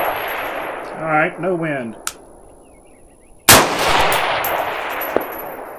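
A competition rifle fires one sharp, loud, echoing shot at a 12 by 12-inch target on an outdoor range, after someone speaks briefly, with a faint click before and a small distant ping after.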